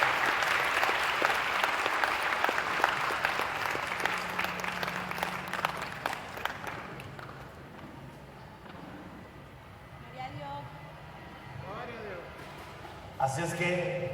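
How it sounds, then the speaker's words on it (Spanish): Loud, dense applause from a church congregation welcoming a pastor to the altar at a Shavuot congress, rolling for about seven seconds before thinning into scattered claps, with voices and room sounds beneath. "Podamos recibirle con un fuerte, con un grande y caluroso aplauso."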